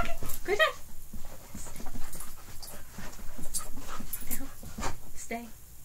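A dog pants and whimpers close by during a trick-training session, with soft breathy panting and a few high whines under a person talking throughout.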